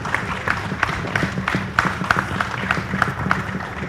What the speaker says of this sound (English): I really must invite a round of applause for Business Day this morning.